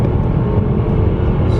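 A 2017 Mercedes-Benz E300 pulls hard in third gear, its engine a loud, steady low roar heard from inside the cabin, with road and wind noise blending underneath and no break in the drone.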